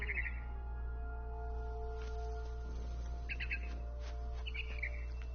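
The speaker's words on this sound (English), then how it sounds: "Then I heard chirping outside my window. It was a barn swallow going back to her nest." Barn swallow chirping in the video game What Remains of Edith Finch, short bright twittering bursts repeated a few times over a quiet low ambient hum.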